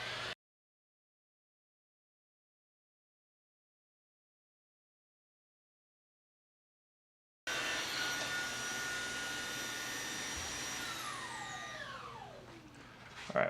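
An OSOTEK H200 cordless wet-dry floor cleaner at its highest suction setting starts up after a long silence and runs with a loud, steady whine and rush of air. Its pitch slides downward near the end.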